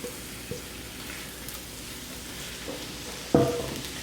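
Eggplant dropped into a pan of already cooked vegetables for caponata, a steady low sizzle and crackle with a few soft stirring knocks and a louder clatter near the end, no talking.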